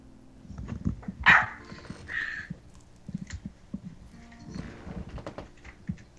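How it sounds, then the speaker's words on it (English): A dog barks excitedly indoors, a couple of sharp yelps and whiny barks early on then softer whimpering bursts, moderately close, with thumping and handling noises throughout and no talking. "My dog is going crazy."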